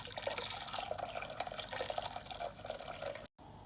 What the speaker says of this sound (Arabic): نزل الماء الحار كذي على جنب.